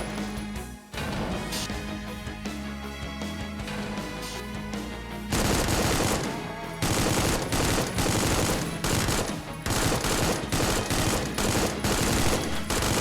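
Rapid Gatling gun fire roars through a hallway in the shooter Supplice, one sustained burst after another. Each stretch of shots is loud and dense and ends in a sharp break, and crashing impacts are mixed in.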